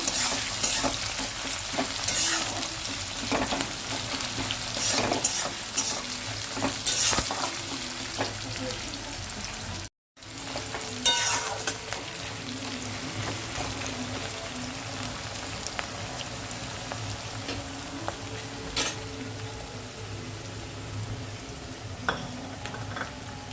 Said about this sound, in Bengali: পেঁয়াজটা দেওয়ার পর ভালো মতন মেরে ছেড়ে লাল লাল করে ভেজে নেবো পেঁয়াজটা